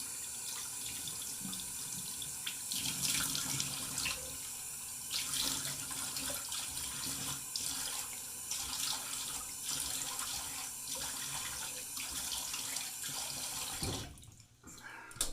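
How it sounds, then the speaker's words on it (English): A bathroom tap runs steadily for a cold water rinse after a shave with a Schick repeating razor, a continuous close splashing stream into the sink that cuts off near the end. "cold water rinse."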